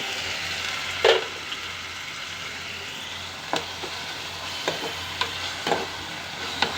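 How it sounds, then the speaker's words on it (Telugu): Onions frying in oil with ginger-garlic paste in a pan for a potato-capsicum curry, a steady close sizzle with a few sharp stirring scrapes scattered throughout. "వేపుకుంటున్నాను చూడండి ఆనియన్స్ వేగుతున్నాయి కదా"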